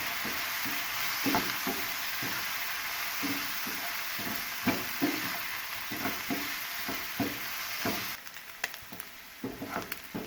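Spiced chicken tikka sizzles in a pan, a steady frying hiss broken by regular soft scrapes and stirs, close by with no talk, fading toward the end.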